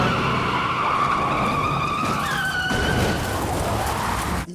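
Car stunt skidding from the 2007 film Death Proof, a long, loud, steady screech of tires with an engine roar underneath, continuous and close, ending abruptly.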